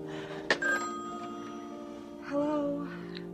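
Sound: telephone ringing

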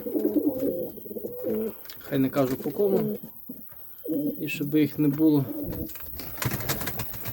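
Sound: pigeons cooing

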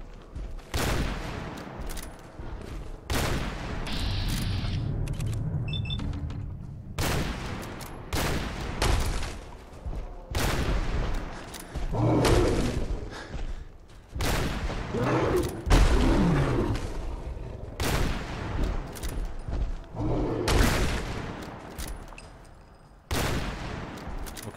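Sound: gunfire in the video game Fallout 4

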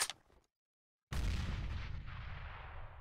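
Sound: flashbang grenade thrown in a video game

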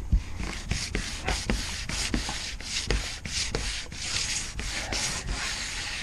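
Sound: sanding a Thunderbird tri-hull boat

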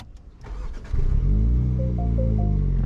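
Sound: car engine starting and revving

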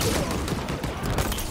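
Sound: sniper rifle being hip fired in video game Halo Infinite

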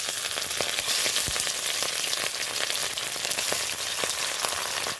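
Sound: fish pieces frying in hot oil in a wok

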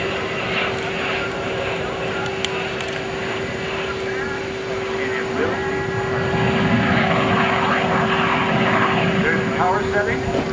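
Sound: US Navy F/A-18C Hornet jet during demo flight

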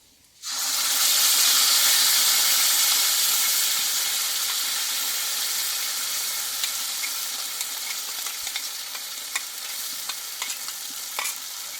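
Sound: spice paste frying in mustard oil

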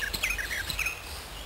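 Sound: pied flycatchers calling at a tree nest hole

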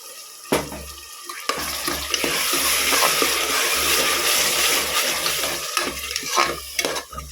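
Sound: tomato paste sautéing with ginger garlic paste for tomato rice

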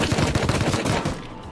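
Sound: gunfire in a video game (Rust)

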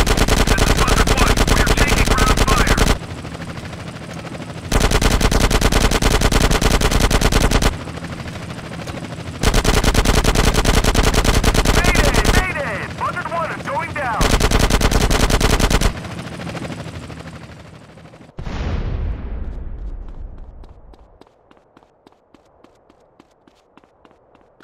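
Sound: gunfire in a video game

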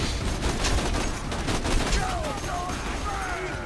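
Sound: gunfire in video game Borderlands 2

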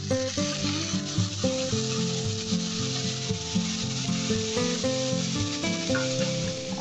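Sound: stir-frying onion greens and green chilli, mixing in turmeric

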